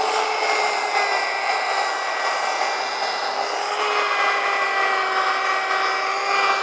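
Steady high-pitched whine of a wet polisher running a 200-grit pad over marble or granite with little water, loud and continuous with stable tones throughout, no voices.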